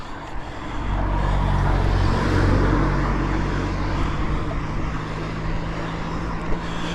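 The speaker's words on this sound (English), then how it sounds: "Got a car behind." A car comes up from behind a cyclist climbing toward a steep part of a Lancashire road, its low engine and tyre rumble swelling and holding steady close by, with no talk over it.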